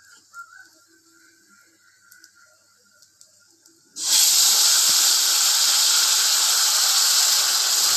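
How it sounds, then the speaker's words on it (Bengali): Ground pumpkin leaf paste hitting hot oil sets off a sudden, loud, steady broadband sizzle that runs unbroken after a quiet start with faint kitchen clatter. "এবার আমি মিষ্টি কুমড়ো পাতা যেটা আমি বেটে রেখেছি সেটা আমি এর ভেতরে আস্তে আস্তে তেলের ভেতরে দিয়ে দেবো"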